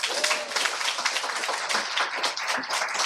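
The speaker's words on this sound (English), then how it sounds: "Let's give her another round of applause" Steady applause from an audience, many hands clapping densely and continuously at moderate volume, with no pauses.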